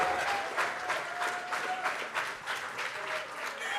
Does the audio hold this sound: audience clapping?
yes